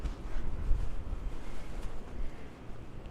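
Steady gusting wind buffets the microphone on a city street in Santa Fe, New Mexico, a continuous low rumble with rising and falling gusts and no talk.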